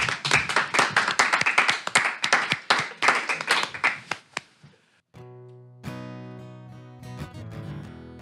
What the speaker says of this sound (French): Applaudissements de confiance